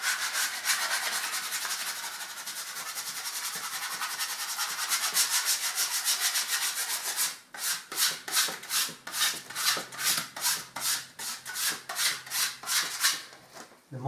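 A scraper strips dry woodchip wallpaper off plaster, first as a continuous rough rasping, then as a series of rhythmic strokes, each scrape loud and close with brief gaps between.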